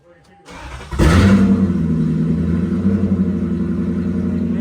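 A car with gutted catalytic converters and a modified exhaust fires up at a cars-and-coffee meet. A brief crank is followed by a sudden loud catch, then a deep, rumbling idle that holds steady and close.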